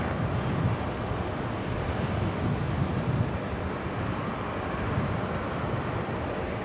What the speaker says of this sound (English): Next takeoff is that flight heading to Montego Bay